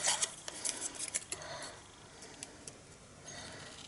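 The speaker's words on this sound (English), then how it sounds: "I'm going to cut these prezzies apart, all of them." Scissors snipping apart paper present cut-outs for a cat-themed birthday card, a cluster of close, crisp cuts in the first second and a half, followed by quieter scattered snips and light rustling.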